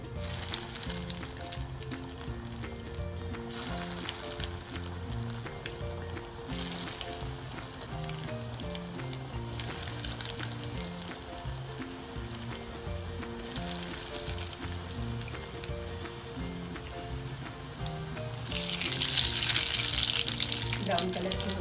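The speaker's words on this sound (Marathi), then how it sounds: "चला आपण तेलात बॉल्स टाकून घेणार आहोत तळायला." Cheese balls deep-frying in very hot oil, a steady crackling sizzle running throughout that swells louder near the end, with background music underneath.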